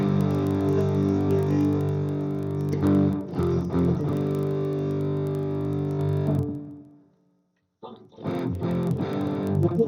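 Heavily distorted electric guitar through an IK Multimedia ToneX One with amp distortion pushed high plays sustained chords and notes, breaking off into near silence before a few more crunchy strums return.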